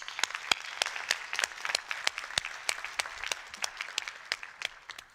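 Applause at a regional roundtable consultation, quiet and fairly sparse with sharp distinct claps from a modest audience, continuing steadily for several seconds without speech.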